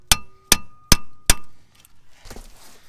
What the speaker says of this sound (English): So you hit the back of this with a hammer,